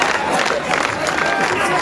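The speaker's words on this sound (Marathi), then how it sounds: "यात्रेला पंचक्रोशीतील भाविकांनी गर्दी केली होती" Dense crowd of devotees at a village temple fair, a steady hubbub of many voices and movement throughout, close and continuous with no single sound standing out.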